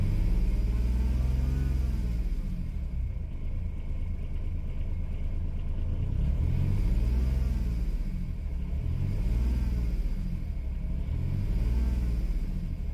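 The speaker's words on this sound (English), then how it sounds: "if I continue keeping the accelerator pressed down, I can actually rev the engine just by turning this knob" Supercharged Kubota diesel engine under Arduino control, revving in slow repeated swells over a deep, loud, continuous rumble, no voices present.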